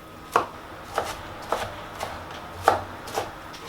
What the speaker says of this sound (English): I'm just roughly chopping this broccoli.